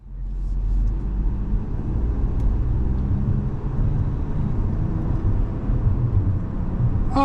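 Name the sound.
2025 Buick Envista Avenir car driving on road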